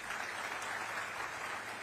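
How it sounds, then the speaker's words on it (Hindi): Steady applause from the audience at a Chhattisgarh government event with the Chief Minister, a dense even clatter of many hands held at constant level throughout, no voices over it. "तालियां।"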